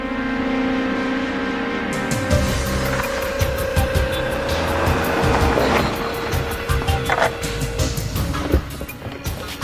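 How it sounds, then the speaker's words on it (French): Adam's car pulls up in a drama scene, its engine rumbling and then settling, with clicks and rattles as it comes to a stop nearby. Nobody speaks. "C'est la voiture d'Adam."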